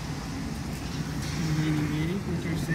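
Ford Del Rey CHT car rounding a roundabout, a steady engine drone and road noise with a rising then falling engine tone as it turns, heard from inside the cabin.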